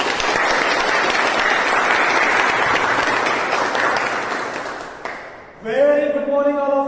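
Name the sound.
audience applause welcoming the Toastmaster of the Day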